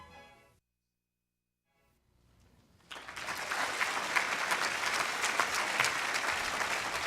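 Audience applause at a small business awards ceremony, starting after a short silence and swelling into steady, loud clapping from a large crowd that continues to the end.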